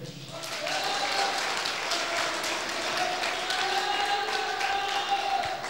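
Audience applause breaks out at a Hindi political rally speech, a steady, dense clapping from a large crowd that swells quickly and holds for several seconds with faint voices mixed in.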